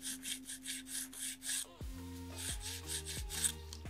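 A file rasps back and forth over a pink and white competition acrylic nail in quick, close, repeated rubbing strokes, with a few soft taps near the end.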